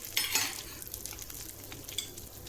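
Red samba aval or puffed rice is lightly fried on low flame, making a soft, quiet crackling sizzle with faint stirring clicks.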